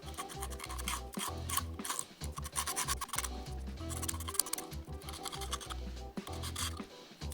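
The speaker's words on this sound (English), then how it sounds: "So you can use quartz sandpaper. Use it to sandpaper it." Quartz sandpaper rubbed over a cabinet surface during a drawer-knob repair, producing steady back-and-forth rasping strokes in a close, continuous rhythm with short pauses between passes.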